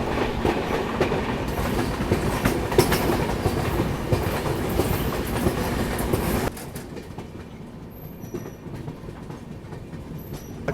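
Swatantra Senani Express rolling into Sakri Junction at sunset, a loud continuous rumble with clickety-clack of wheels over rail joints that drops off sharply partway through to a quieter hum.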